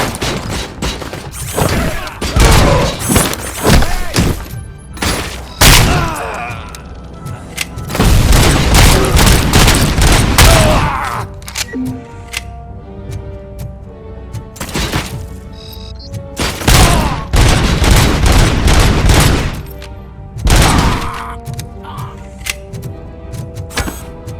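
Gunfire and heavy booms from the video game RoboCop: Rogue City, with repeated bursts of shots and explosive impacts in dense clusters over a loud, busy backdrop, broken by brief quieter gaps.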